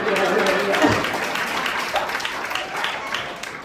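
A crowd applauding, steady dense clapping filling the whole stretch, with some voices mixed in under it.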